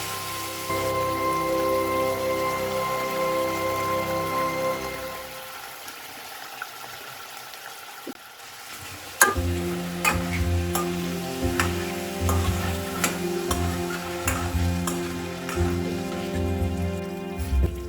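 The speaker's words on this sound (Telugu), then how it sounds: "ఆయిల్ వేడైన తర్వాత డైరెక్ట్గా మనం చికెన్ పీసెస్ వేసుకోవాలి" Chicken pieces dropped into hot oil, making a dense crackling sizzle with sharp pops that starts abruptly partway through and continues over a lower hum.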